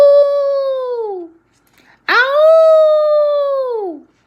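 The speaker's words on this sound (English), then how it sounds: "From far behind him, he heard Lucy's anguishing howl." A dog gives two long, loud mournful howls, each gliding downward at the end, separated by a short silence, close and alone.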